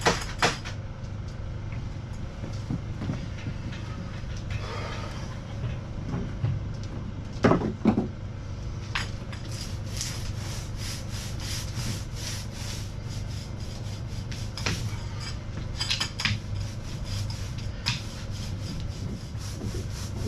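A paint roller applies TotalBoat two-part epoxy primer to a classic Boston Whaler boat, making a continuous soft rubbing and rasping swish with occasional louder knocks and strokes, close by and without talk.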